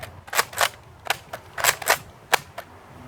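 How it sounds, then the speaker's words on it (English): A Nerf Vortex FuseFire blaster fires LighTake discs, giving about eight sharp snapping shots in irregular pairs and singles, close and loud, with no talk. "Now the fuse fire firing LighTake."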